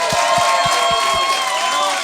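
A studio audience at a Quebec talk show claps and cheers to welcome a guest, with dense, lively applause and a few shouts over a few low thumps near the start.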